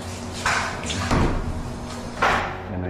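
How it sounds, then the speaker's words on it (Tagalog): A PVC door is fitted during a rowhouse renovation, with a few dull knocks and thuds from the panel and frame over a steady mechanical hum and room noise. "Kinakabit na po ni Master RJ yung mga pinto ng ating PVC door"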